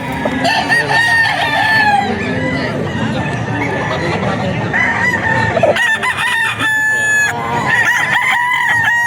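Roosters crow repeatedly at a crowded rooster market in Bocaue, several calls overlapping near and far over a dense, noisy background of clucking fowl and market chatter.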